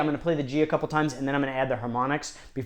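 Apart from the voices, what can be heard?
No everyday noise stands out behind the speech.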